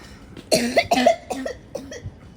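A young boy coughs in a quick series of about four close, harsh coughs, each burst short and loud with a voiced, throaty edge.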